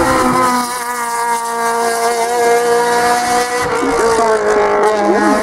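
A Peugeot 207 RC race car climbs a hillclimb course, its engine loud and sustained, with rising and falling revs and gear changes over several seconds, heard close and steady.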